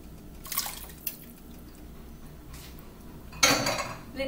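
Water is poured into a pot of minestrone soup in a few short splashy bursts, with light metallic clinks between them and no voices.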